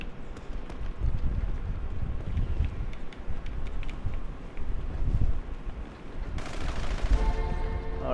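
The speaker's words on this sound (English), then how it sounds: "Oh, he got that powerful shotgun." Shotgun fire in the video game GTA V during a multiplayer match: a string of rapid, muffled blasts over a constant windy rush, with a sharper burst near the end.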